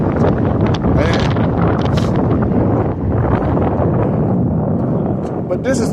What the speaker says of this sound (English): The wind is not acting a fool.